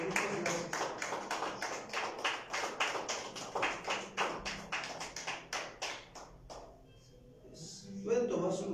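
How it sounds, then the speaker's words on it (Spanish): A church congregation at a Thursday service claps in a steady rhythm for several seconds with voices mixed in. The claps then stop, and a voice speaks briefly after a short quiet pause. "Dale un fuerte aplauso al Señor."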